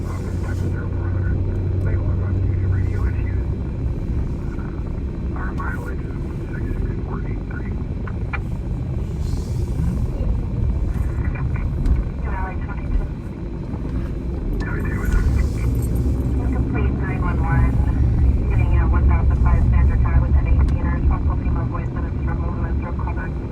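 Low rumbling drone of an airplane flying overhead, swelling and fading across the stretch, with faint background chatter and sporadic voices mixed underneath.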